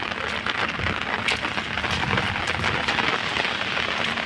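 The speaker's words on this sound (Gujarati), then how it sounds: "ભારે વરસાદ ચાલુ છે" Heavy rain pours down steadily over flooded farm fields, a dense, constant hiss of drops drumming on surfaces, loud and close with no pauses.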